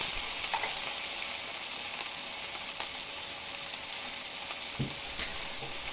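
Onions sautéing in a pan make a faint, steady sizzle with a few soft stirring clicks scattered through it.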